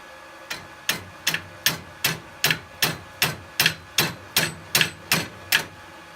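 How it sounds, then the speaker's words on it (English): Rounding hammer striking a small 5mm steel bottle opener lip on an anvil during forging, about fifteen sharp, ringing blows in a steady rhythm, close and loud with no talk. "So what I really need for this is a rounding hammer."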